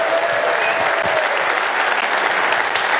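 A snooker crowd breaks into steady, loud applause, a dense unbroken wash of clapping from a nearby audience that holds evenly for the full three seconds.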